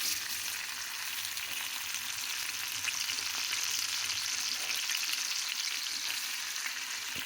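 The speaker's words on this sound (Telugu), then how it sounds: "ఉల్లిపాయలు సన్నగా తరుక్కొని వేయించుకోవాలండి" Finely chopped onions frying in a pan give a steady, quiet hiss of hot oil that is even and unbroken throughout, with no voices.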